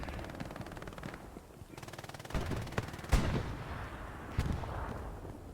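Machine gun fire in the World War II shooter Hell Let Loose, heard during a competitive match: sustained rattling bursts with a few louder, sharper reports that sound like heavier impacts.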